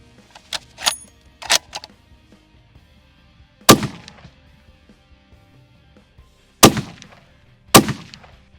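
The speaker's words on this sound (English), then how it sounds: "now we're shooting the 285 grain Hornady ELDMs" A Christensen Arms MPR rifle fires 285 grain Hornady ELD-M rounds: three sharp, loud cracks spaced a few seconds apart, each with a short echoing tail, plus a few fainter clicks and handling sounds between.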